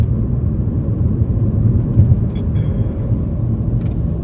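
A Nissan Rogue Sport's MR20DD engine idles steadily, a low, even rumble close by that holds constant throughout, with a few faint clicks near the end and no talking.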